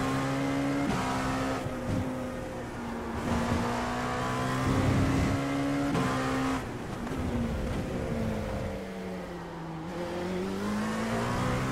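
Dallara P217 prototype race cars roar around Laguna Seca in iRacing, a loud continuous engine note rising and falling through gear changes and corners, with other cars sweeping past close by.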